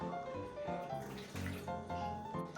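Warm water, about one and a half cups, is poured for homemade bread dough, making a steady splashing stream for a couple of seconds over a faint tonal background.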